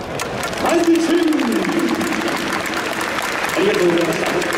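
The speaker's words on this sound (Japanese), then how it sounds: "もう一度温かい拍手をお送りください" Steady crowd applause at a baseball stadium after a ceremonial first pitch, a broad continuous wash of clapping with an announcer's voice heard over it.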